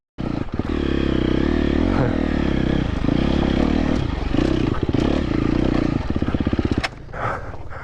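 A KTM 250 XC-F dirt bike rides hard along a desert trail, its engine roaring loudly and continuously with gritty clatter, dropping off sharply near the end.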